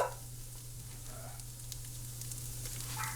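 A pan sautés before spices are added, with a soft, steady sizzle and faint stirring scrapes over a low hum, and no one speaking.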